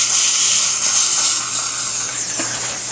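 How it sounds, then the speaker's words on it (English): A dental pilot drill bores into bone to prepare an implant site for an immediate implant at tooth #9. A steady, high-pitched whine is heard close by and alone, dipping slightly near the end. "So I'm going to place our implant with a pilot drill."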